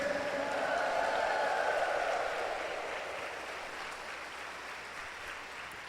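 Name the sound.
church congregation applause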